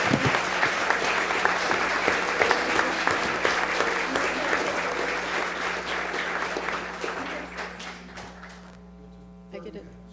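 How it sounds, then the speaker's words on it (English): A large audience at a school board meeting applauds loudly, steady clapping that gradually fades away, leaving a low electrical hum at the end. "So please now give a big round of applause for Miss Marion Canfield."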